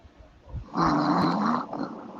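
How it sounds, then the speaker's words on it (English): A sleeping man's snore, one drawn-out, rough, rumbling breath that swells and holds for over a second, fairly close and alone with no talk, during a basketball reaction livestream. "Hoop is snoring"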